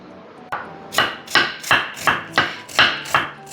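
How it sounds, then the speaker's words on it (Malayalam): A knife chopping onion finely on a board for a burger patty, a run of seven crisp, evenly spaced thuds after one lighter tap, close and loud, with no one speaking. "ഞാനുണ്ടല്ലോ സവാള ഭയങ്കര കുനുകുനാന്നരിയുക കേട്ടോ, ബർഗർ പാറ്റിയിലേക്ക് വേണ്ടിയിട്ടാണ്"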